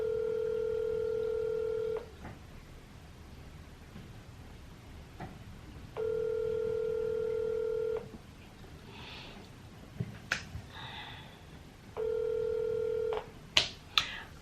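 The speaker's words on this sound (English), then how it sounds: "whoever I was calling, they did not want to pick up the phone" A telephone is dialed: three separate two-second bursts of steady multi-tone signal repeat at regular intervals, with faint handling clicks and bumps in between, and nobody speaks.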